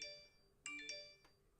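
Mobile phone notification chimes ringing out in a quick cluster of bright, bell-like tones, a couple overlapping, then trailing off; fairly faint and heard alone.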